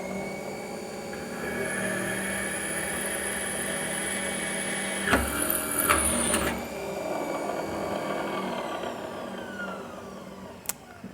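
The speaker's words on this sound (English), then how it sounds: "I'm going to turn the drill press to on." A drill press drones steadily with a high whine as a drill bit grinds into metal, giving a few rougher cutting bursts midway and a sharp tick near the end.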